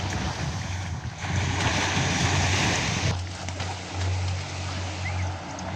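Waves washing onto the sand at Plage des Cinq Quais during a skimboarding session, a broad steady rush of surf mixed with wind buffeting the microphone and a low droning hum underneath, with no talking.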